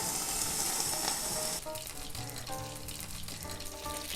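Kimchi dumplings frying in a pan burst into a loud, steady hiss as about a quarter cup of water hits the hot oil, then the sizzle settles into a softer bubbling crackle with light clinks.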